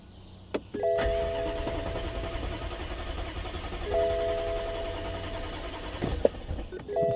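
BMW F10 M5 engine cranking and catching, then idling steadily and loud up close for several seconds, with short chimes and clicks over the running engine.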